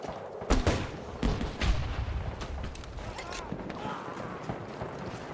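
Sniper and rifle fire in the video game Battlefield 2042 sounds as a few sharp cracks in the first two seconds, followed by scattered quieter shots in a busy battle background, with speech mixed in.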